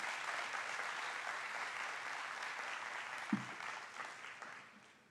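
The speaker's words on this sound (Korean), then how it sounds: "등단하실 때 박수로 맞이해 주시기 바랍니다." A church congregation at a Sunday service applauds as the pastor comes up onto the stage: steady, fairly distant clapping from a crowd that holds for several seconds and then gradually fades out.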